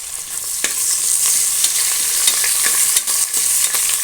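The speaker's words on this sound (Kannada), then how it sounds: "ಕರಿಬೇವು ಸ್ವಲ್ಪ, ಇದು ಸ್ವಲ್ಪ ಚೆನ್ನಾಗಿ ಫ್ರೈ ಆಗಬೇಕು." Curry leaves frying in a pan for palak paneer pulao: a loud, close, hissing sizzle with occasional spatula clicks and stirring scrapes, no speech.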